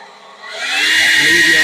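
Sihuird cordless leaf blower spinning up and running on low speed, a close, steady airy whine that rises over the first second and then holds level.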